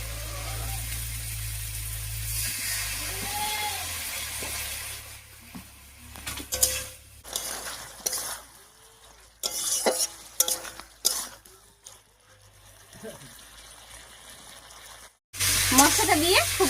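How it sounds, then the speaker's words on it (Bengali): Chitol fish masala is stirred with water in a pan, giving repeated close scraping and wet churning strokes in uneven bursts over a low sizzle, with a brief voice near the start. "এবার একটু জল দিয়ে কষিয়ে নিচ্ছি।"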